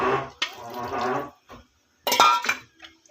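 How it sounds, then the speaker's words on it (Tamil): Water is poured into a pot of chana masala on the stove, two bursts of splashing liquid separated by a short pause, with light clinks of metal cookware close by. "இப்போ தேவையான அளவு தண்ணி சேர்த்துக்கலாம்"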